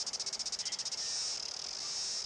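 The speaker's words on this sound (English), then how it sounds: "And this is a cicada." A cicada buzzes loudly, first in a rapid pulsing rhythm, then settling into a continuous high-pitched drone.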